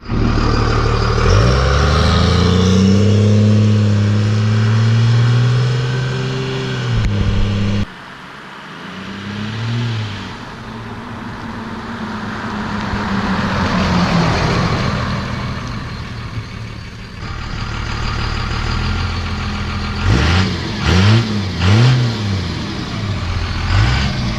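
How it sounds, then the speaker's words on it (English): A 2001 Cummins 24-valve diesel pickup truck engine idles loudly nearby, then revs up in several deep, rising surges with a rattling, throaty roar. "I'm standing in front of the 2001 24 valve Cummins. It sounds very nice."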